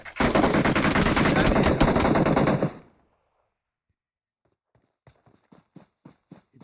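Automatic gunfire from the battle royale video game PUBG, a loud dense burst of rapid shots lasting about two and a half seconds, then silence before a string of quieter short clicks or footsteps.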